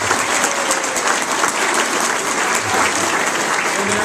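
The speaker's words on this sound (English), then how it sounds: "everyone give a round of applause for Labor Commissioner Cherry Berry" A crowd at a county Republican Party gathering applauds Labor Commissioner Cherry Berry, a steady, loud wash of clapping that fills the room without a break.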